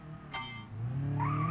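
A car launches from a standstill in a driving video game, a brief burst of noise followed by a rising engine note as it pulls away, fairly quiet overall.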